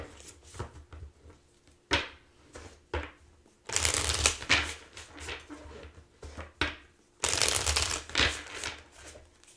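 A deck of cards being shuffled at close range, with two long riffle bursts and several shorter flicks and taps between them, alone without talk.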